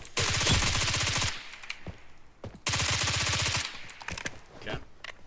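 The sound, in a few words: M249 machine gun firing rapidly in Blackhawk Rescue Mission 5 video game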